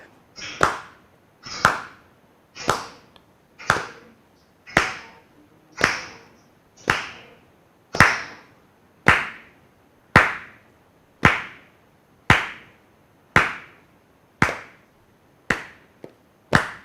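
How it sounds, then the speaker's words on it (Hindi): Simple hand claps from Kathak dance practice, about sixteen sharp, crisp claps landing at an even, measured beat with silence between each one, close and alone. "ये है सिंपल ताली देना।"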